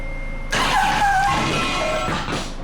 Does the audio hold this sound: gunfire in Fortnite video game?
no